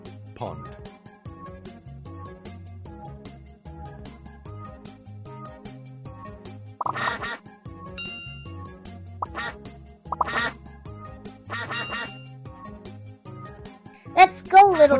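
Cartoonish duck quacks recur throughout over a bouncy melody in the reading game Teach Your Monster To Read, with a few louder squawking bursts and a sharp jingle near the end.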